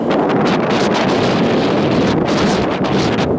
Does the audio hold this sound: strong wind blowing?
yes